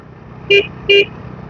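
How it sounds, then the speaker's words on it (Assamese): Two short, loud honks from a vehicle horn ring out about half a second apart on a narrow mountain road, with only a faint engine rumble underneath and no talking. "খালি হৰ্ণ দি যাব লাগিব, কেতিয়া কোনফালৰ পৰা গাড়ী আহি যায় ক'ব নোৱাৰি।"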